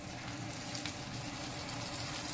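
Fenugreek leaves fry in hot oil with softened onion in a pan, a constant dense sizzle and crackle at steady loudness, close and uninterrupted by speech.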